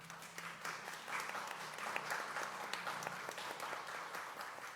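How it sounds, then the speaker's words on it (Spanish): An audience applauding at a book presentation, a steady wash of many hands clapping at moderate distance, even and sustained for several seconds before easing slightly. "A quien también pido un fuerte aplauso"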